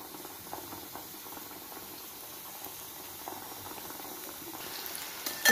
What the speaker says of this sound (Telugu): చూడండి, ఇది ఇలా మనం వేయించేసుకుని చక్కగా వేగిపోతుంది.